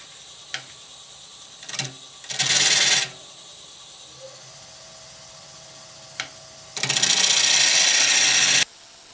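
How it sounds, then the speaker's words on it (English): A wood lathe tool hollows out the inside of an oak bowl in two loud, sustained rasping cuts, each a couple of seconds long, separated by quiet stretches with a few sharp taps and clicks. "So now I'm going to hollow out the inside of this oak bowl."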